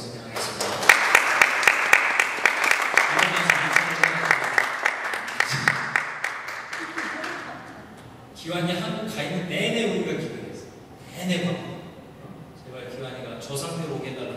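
A church congregation claps to welcome a young man back from Korea. Dense, steady applause lasts about seven seconds, then someone speaks over the quieting room.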